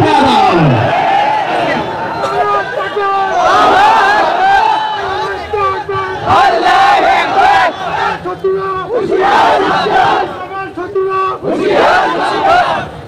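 A rally crowd loudly chanting slogans in unison, repeated rhythmic shouted phrases rising and falling, close and continuous, with a leading voice calling out between the crowd's responses.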